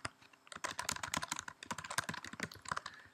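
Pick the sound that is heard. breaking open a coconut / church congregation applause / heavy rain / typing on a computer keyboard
typing on a computer keyboard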